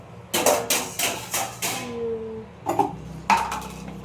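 Metal cooking pots being stacked in a home kitchen give a close series of sharp clanks and ringing knocks, about eight in quick irregular succession with short gaps, and no voices.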